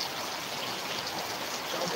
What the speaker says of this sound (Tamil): எங்கள் ஊரில் மழை பெய்யுது